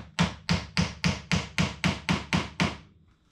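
Nine evenly spaced hammer blows driving nails into plywood, sharp and close, about one every third of a second, then silence.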